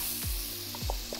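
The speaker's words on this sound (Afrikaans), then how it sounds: "So nou smelt ek my botter en hier gaan my eie." Butter melting in a pan with olive oil gives a soft, steady sizzle, close and fairly quiet, with a couple of light pops.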